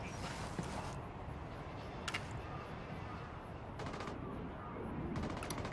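Mortar and gunfire in Ghost Recon Wildlands: a dense, steady wash of combat noise with sharp cracks of shots and distant booming impacts, continuous throughout with no clear gaps.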